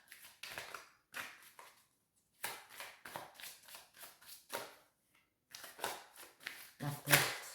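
Tarot cards shuffled by hand in a series of short, crisp riffling bursts with brief pauses between them, fairly close and moderately loud, with a louder flurry near the end.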